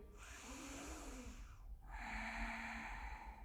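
Deep breaths drawn during a Ukrainian beginner yoga session: a long airy inhale, a short break, then a second fuller breath, close and steady with no talking.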